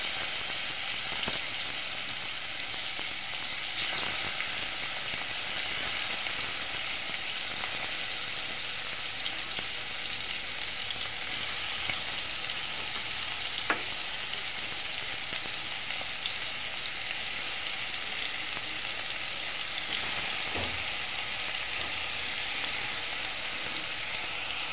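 Chicken pieces for butter chicken fry in a pan, a steady close sizzle and crackle holding for the whole stretch, with a few faint clicks and stirs on top and no voices.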